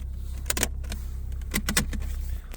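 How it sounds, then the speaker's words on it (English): Chrome shifter cover in a Ford Mustang being pushed into place, two clusters of sharp plastic clicks, close and fairly crisp, over a low steady hum, with no talking. "push it in until it clicks"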